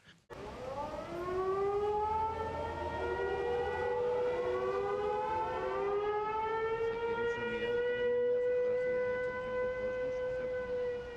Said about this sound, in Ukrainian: Сигнал повітряної тривоги включили у центрі Афін